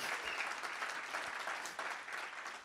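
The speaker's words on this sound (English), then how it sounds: "let's get some applause going" An audience claps steadily, a dense wash of applause that swells slightly and continues throughout.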